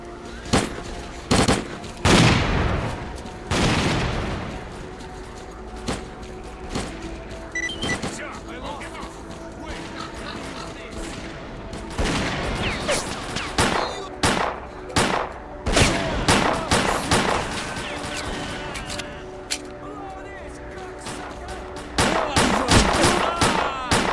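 A gunfight in STALKER Clear Sky: loud gunshots and bursts of automatic fire crack repeatedly, some close and some farther off, over game ambience, with voices talking throughout.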